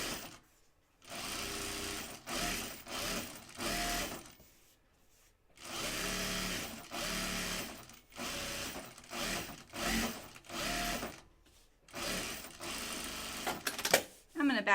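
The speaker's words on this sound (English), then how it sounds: "So put this right sides together and sew around the perimeter at a 1/4 inch seam." A sewing machine stitches a bag flap to its lining around the perimeter, running in repeated bursts with short pauses between them, close and fairly loud. Light speech can be heard now and then between the runs.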